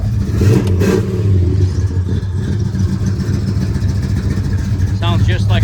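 A 1969 Dodge Coronet 500 muscle-car engine rumbles loudly at close range with a steady throb and rising revs, and a voice is heard briefly near the end.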